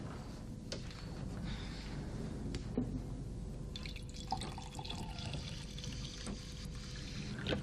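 Water trickles and drips steadily at low volume in a home setting, a continuous soft liquid sound with occasional small splashes as it is poured, no voices heard.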